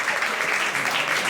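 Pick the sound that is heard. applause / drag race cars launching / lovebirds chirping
applause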